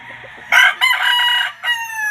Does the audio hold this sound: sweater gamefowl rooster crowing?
yes